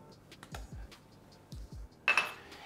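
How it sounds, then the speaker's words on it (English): Chickpeas dropping into a soup pot of broth, a few soft, close knocks and light clinks at irregular intervals, ending in a brighter, clattering rattle, quiet overall with no talk. "Chickpeas are gonna go in."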